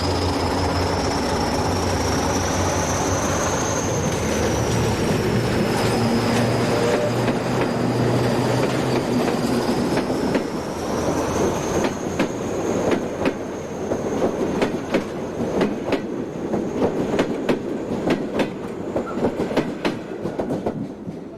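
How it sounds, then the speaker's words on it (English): Portuguese diesel locomotive 1801 easing a Setúbal to Barreiro passenger train out of Pinhal Novo, a steady engine drone with a high wheel squeal, then rhythmic clickety-clack of wheels over rail joints as the train passes. "It eases out of Pinhal Novo with a Setúbal to Barreiro train."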